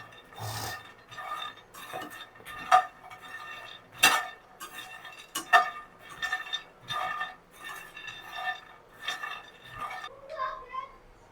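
Makhana (fox nuts) roasting in a pan: a near, rhythmic series of dry scraping and rattling strokes with light clinks from the spatula, with a voice at times between strokes.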